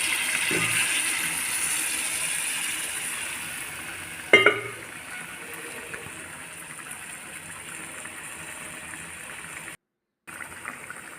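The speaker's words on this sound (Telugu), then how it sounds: "గ్రేవీ కోసం కొద్దిగా వాటర్ పోయండి" Water poured into a simmering chicken curry to make gravy brings a soft sizzle and bubbling, with one brief clatter midway. A quieter trickling simmer follows, broken by a short gap near the end, with no one talking.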